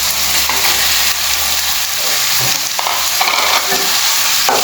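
Fresh and dry prawns sizzle loudly in a hot pan with chili for a Goan prawn curry, a continuous close fry broken by scraping stirs and clinks of the spoon, with no talking.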